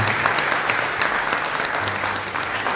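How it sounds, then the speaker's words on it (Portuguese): A church congregation claps together in praise, a dense steady roar of hands that holds evenly for a few seconds at moderate loudness. "Aplauda o Senhor em nome de Jesus"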